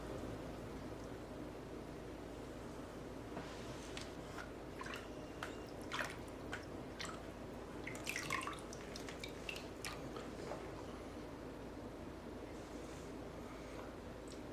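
A game controller part is dipped at an angle into water with a light spin, a faint steady watery hiss scattered with soft drips and trickles, quiet and close, without speech.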